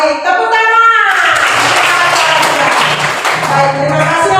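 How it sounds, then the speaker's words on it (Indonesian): Schoolchildren in a Catholic religious education class at an elementary school break into a burst of hand clapping that lasts a few seconds. A voice is heard briefly just before it, and the noisy clapping then tapers off. "Baik, tepuk tangan"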